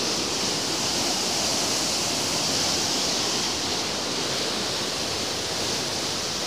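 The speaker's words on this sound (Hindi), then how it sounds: "स्पीड देखिए पानी की आप।" Fast water rushes through the Indira Gandhi canal near the India-Pakistan border, a loud, steady, broadband roar that holds constant throughout with no pauses.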